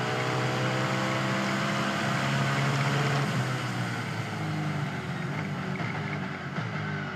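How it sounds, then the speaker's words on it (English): Ford Trans Am race car recorded on board at Belle Isle, its big-horsepower engine roaring steadily with shifting pitch through downshifts, loud and continuous throughout with no talk. "Just hearing the motors, the downshifts, these cars are raw, they're fast, they got big tires, big horsepower."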